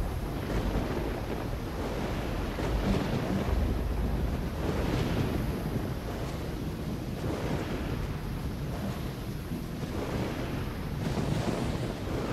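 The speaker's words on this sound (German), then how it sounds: "Alter, was ist das für ein Unwetter?" A storm in the video game Risen, with steady roaring wind and crashing surf waves that swell and break in loud, continuous surges, no speech over it.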